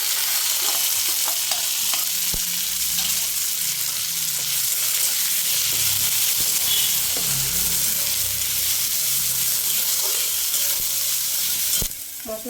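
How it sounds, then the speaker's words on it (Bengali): Ground dried fish paste mixed with garlic fries in oil in a pan, giving a steady loud sizzle throughout with scraping stirs of a spatula, close and without talk. "মাছের থেকে যতক্ষণ না তেলটা ছেড়ে আসবে ততক্ষণ কষাতে থাকবে"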